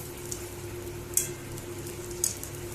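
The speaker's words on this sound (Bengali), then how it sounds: "ওই দেখো ফুচকা ভাজছে দিদি, দেখে নাও তোমরা।" Fuchka puris frying in hot oil give a soft, steady sizzle, broken by a couple of brief sharper crackles.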